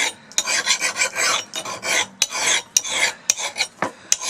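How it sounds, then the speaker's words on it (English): A double cut file rasps across a mild steel garden tool blade in steady, loud back-and-forth strokes, close up, with short pauses between the gritty scraping passes and no talking. "work with the double cut file"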